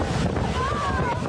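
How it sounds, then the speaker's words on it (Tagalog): Strong typhoon wind roars steadily and loudly across the microphone with a low rumbling buffet, and a faint whistling tone rises briefly through the middle. "Hagupit ng hangin."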